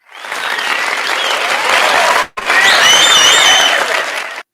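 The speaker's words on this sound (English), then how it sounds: "These are a little round of applause, I think" A recorded applause sound effect played out on a podcast, a loud dense crowd clapping in two bursts split by a sharp momentary cut, with faint cheers over the second half before it stops abruptly.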